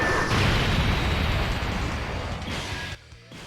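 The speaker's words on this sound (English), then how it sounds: "Electro Eclipse Bomb!" Super 17's Electro Eclipse Bomb detonates in a Dragon Ball video game as a loud, sustained roaring blast of energy that fills the space, then cuts off abruptly near the end.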